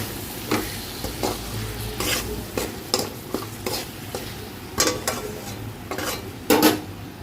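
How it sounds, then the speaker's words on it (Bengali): Ginger-garlic paste, chopped garlic and onion being sautéed into a masala for chili chicken, a steady sizzle broken by repeated sharp scrapes and clinks of a spoon stirring against the pan, close and alone. "এটা দিয়ে আমি মশলাটাকে ভালো করে জাস্ট সতে করব।"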